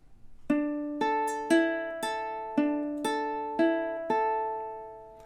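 A ukulele plays running eighth notes with four-finger picking, clear plucked notes ringing out one after another at a steady pace, close and alone.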